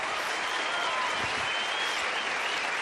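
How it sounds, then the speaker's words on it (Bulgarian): Applause from the studio audience on the X Factor live show fills the space after a singer's performance. It is a continuous, wide wash of clapping from many hands that stays steady throughout, with no talking over it. "Аплодисменти за Кристияна."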